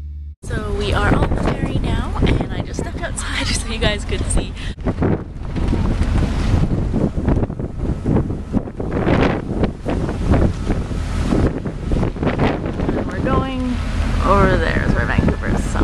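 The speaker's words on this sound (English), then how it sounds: "we already took the ferry over to Vancouver, and I took just a little bit of footage" Ferry crossing to Vancouver, with steady, loud wind buffeting the microphone over the water and a constant engine and wave rumble beneath, continuous throughout.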